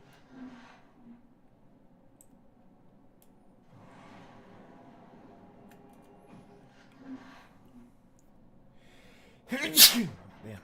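A single sharp sneeze bursts out near the end after several seconds of quiet room tone and faint low murmuring, loud and close compared with the hushed background.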